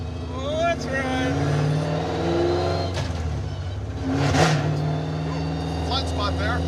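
Engine of a muscle truck driving and accelerating, a steady mid-pitched drone that rises and swells in places, with people talking over it inside the cab throughout.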